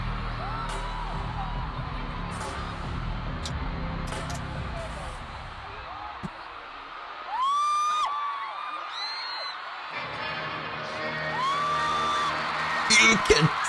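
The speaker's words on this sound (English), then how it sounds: "You can tell the crowd is crazy." A large crowd at a concert in Manila whoops, yells and cheers, loud and distant in waves, with shrill screams rising at moments and people talking nearby.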